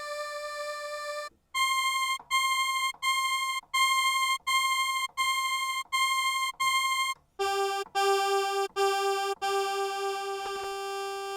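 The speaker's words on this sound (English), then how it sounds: "You hear just a little bit of ringing behind that oscillator" A Korg Polysix synthesizer plays a sequence of sustained, repeated tones with an oscillator voice, a faint ringing trailing behind it. The notes are steady and evenly spaced, shifting to a lower pitch partway through, with no talking.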